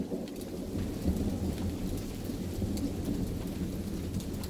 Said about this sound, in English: Why are we having a thunderstorm in winter?